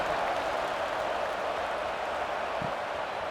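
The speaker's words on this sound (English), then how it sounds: "this crowd is buzzing after that last score" A stadium crowd buzzes steadily in a college football video game simulation of Miami at Pittsburgh, a dense and even roar of cheering and applause-like noise that holds the same level throughout with no clear voices on top.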